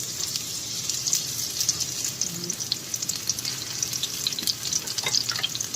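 Onion fries with browned garlic in a pan, making a dense, lively sizzle with crackling spatters that holds steady throughout, close and fairly loud, with no voices.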